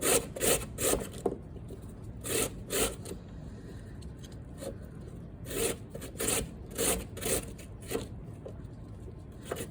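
Raw ripe beets rubbed against a box grater, giving a close run of repeated rasping strokes in uneven bursts with short pauses between, no talking.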